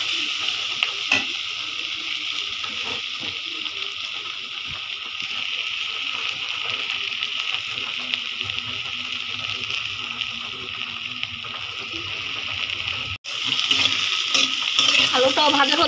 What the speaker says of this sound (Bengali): পেঁয়াজ আর আলুটা আমি একসাথে ভেজে নিচ্ছি।